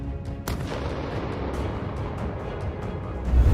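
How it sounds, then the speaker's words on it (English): A drone strike hits a bunker, setting off an explosion heard as a sharp blast followed by a rumbling, booming roar that holds loud and low, swelling again near the end. "striking the bunker directly and triggering a massive explosion"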